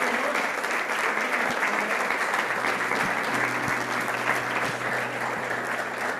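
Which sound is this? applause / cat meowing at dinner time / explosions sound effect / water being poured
applause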